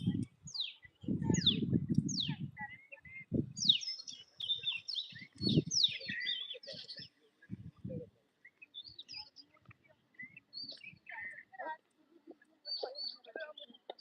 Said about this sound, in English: It is a tiny bird.